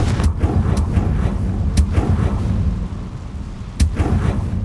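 A Confringo fire spell in Hogwarts Legacy bursts as several loud, sharp blasts over a constant rumbling game backdrop, with strong hits near the start, middle and end.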